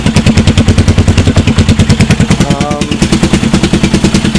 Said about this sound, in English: you guys can hear an engine running in the background.